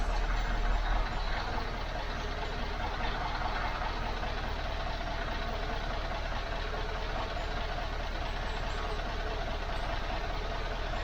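Truck engine just started and idling after an engine rebuild, a steady dense rumble with a slight knocking texture, loud and close, unbroken for the whole stretch with no voices.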